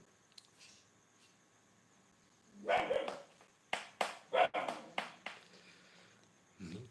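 Several sharp dog barks in a quick cluster after a quiet stretch, fairly close, with one more bark at the end, from a small dog and a big dog fighting.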